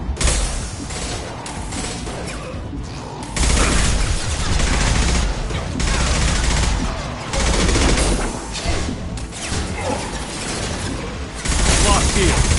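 Weapon fire in Mass Effect 2 combat: repeated loud volleys of rapid shots and bursts, close and dense, coming in waves with brief lulls between them.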